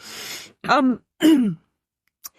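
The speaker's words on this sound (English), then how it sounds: "it's all these pastries are making me cough" A few close, throaty coughs with a voiced, strained edge, separated by short silences, then a faint click at the end.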